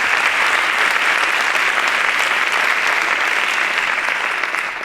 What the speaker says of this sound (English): Can we have a round of applause for John Richard and the Adrian Arts Center?